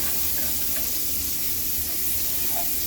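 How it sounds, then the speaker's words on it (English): Margarine sizzles steadily in a frying pan as it is stirred around for a breakfast of green eggs and ham, a constant close hiss with faint scraping and no talk. "Nice bit of margarine in the pan. Just kind of zhuzh it around"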